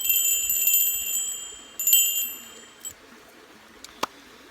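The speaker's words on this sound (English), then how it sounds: "Those were bells, beautiful bells." Peruvian curandero bells ring with a bright, shimmering high tone that repeats and slowly decays, followed by a few faint, isolated taps in a quiet room.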